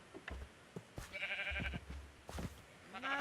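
Sheep in the Minecraft video game bleat several times in short, wavering calls, mixed with scattered soft thumps and clicks, close and moderately loud with no talking.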